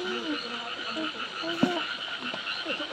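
Frogs croak in a wet field in Taiwan, a near chorus of repeated short throaty calls over a steady insect-like hiss, with one sharp knock partway through.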